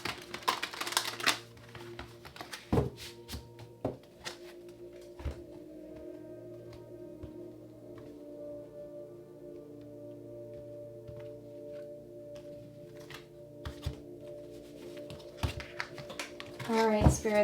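Tarot cards being shuffled, a run of crisp, rapid papery clicks and riffles in bursts, close and fairly quiet, with pauses between.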